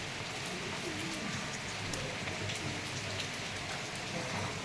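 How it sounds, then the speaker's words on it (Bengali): Steady rain falls outside an open window in an evening downpour, a dense even hiss with faint scattered drips, unbroken and fairly soft throughout. "আর আমি এখানে জানলা ধারে বসে বসে বৃষ্টি দেখছি।"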